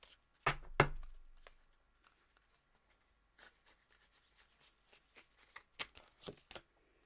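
Tarot cards are shuffled by hand in a reading, with two loud riffling bursts near the start, then a quiet pause, then a string of softer, quick rustling shuffles.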